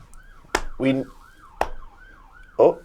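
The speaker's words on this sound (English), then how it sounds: "I heard the sirens." A siren wails in smooth rising and falling sweeps, with a few sharp knocks and a brief voice-like burst cutting in.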